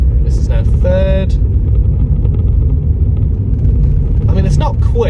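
A Vauxhall Astra 1.4 family saloon running roughly in third gear, with a steady loud engine drone and road rumble throughout while someone talks over it.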